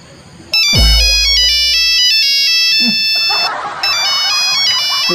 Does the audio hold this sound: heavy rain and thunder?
no